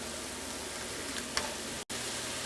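Sliced mushrooms sizzle and fry in a pan over medium heat, a steady close hiss with a faint clink of stirring partway through and a brief dropout near the end.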